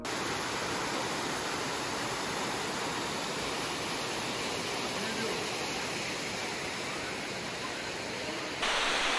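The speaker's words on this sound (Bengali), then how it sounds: "আমি এখন দাঁড়িয়ে আছি এলিফ্যান্ট ফল ওয়াটারফলসের সামনে।" Elephant Falls, a multi-tiered waterfall in Shillong, Meghalaya, makes a steady, dense roar of falling water that holds unchanged and close throughout, with no voices heard.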